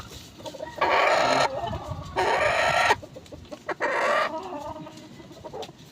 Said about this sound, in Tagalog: malapit na ito pala mangitlog kasi kumakakak na siya